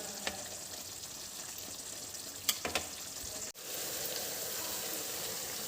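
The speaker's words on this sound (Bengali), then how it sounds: "মশলাটা কষানো হচ্ছে" Spice paste frying in hot oil for a paneer and egg curry, a steady soft sizzle throughout with a couple of brief clinks and a short pause near the middle.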